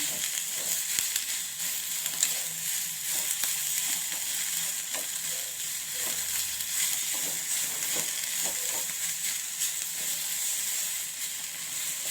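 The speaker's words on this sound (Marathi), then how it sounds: "हे कोथिंबीर जरा घालायची. हे परतून घ्यायचं जरा." Fresh coriander leaves sizzle and fry steadily in a pan while being stirred into a stuffed brinjal (bharli vangi) masala, a continuous close hiss with occasional spoon scrapes and no talk.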